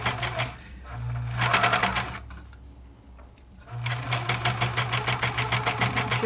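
A serger stitches the side seam of a small doll-sized raglan shirt in two bursts of fast, steady whirring that pause for a quiet stretch in the middle before resuming at full speed, loud and close.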